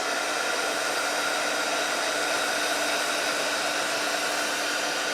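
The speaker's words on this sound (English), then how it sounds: "I'm going to keep my heat tool moving because I don't want to remelt that embossing powder." A heat tool blows hot air over embossing powder in a steady, unbroken whooshing roar, close and constant with no pauses.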